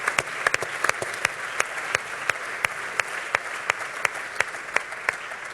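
A crowd at a political debate claps steadily, a dense even wash of applause with sharp individual claps standing out at regular moments, moderately distant and without voices over it.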